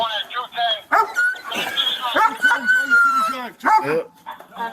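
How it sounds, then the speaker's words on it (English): An all-black Belgian Malinois police dog whines and yelps in high, wavering cries close to the microphone, rising and breaking repeatedly in a run of agitated bursts. "I believe that's an all black Malinois"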